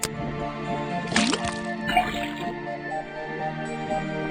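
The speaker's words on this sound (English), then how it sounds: "put the sample of liquid into the cauldron, then tap the faucet" Liquid sample poured into a cauldron, then a faucet tapped, in the Detective Grimoire swamp puzzle game: a short splashing pour and a bright tap ring out over steady game music and ambience.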